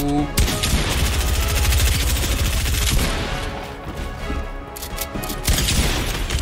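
A shotgun in the game Fortnite blasts repeatedly at close range, the shots loud and dense in rapid succession alongside other game sounds, with no speech.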